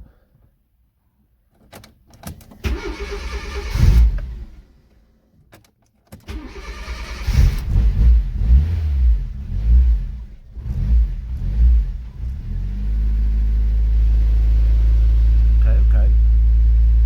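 An 899cc Fiat Cinquecento engine cranks, dies, then cranks again and catches, settling into a loud steady running drone; a person talks between the attempts.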